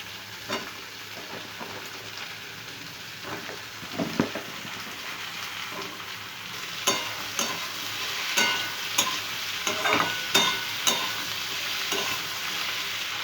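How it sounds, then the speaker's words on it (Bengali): Ridge gourd frying in a pan with potato, onion, tomato and green chilli gives a steady loud sizzle, broken by repeated scraping stir strokes of a spatula. "প্রথমে আমি আলুটা পেঁয়াজের সাথে ভেজে নিচ্ছি"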